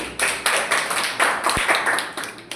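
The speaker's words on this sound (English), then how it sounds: "Please give a round of applause." Audience clapping at a Toastmasters club meeting, meeting number 230: a short round of close, moderately loud applause with uneven bursts and one sharp low thump near the middle, no voices.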